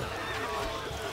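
A horse neighs in the Stronghold Crusader strategy game, a brief whinny among busy battlefield noise, with game voices speaking over it.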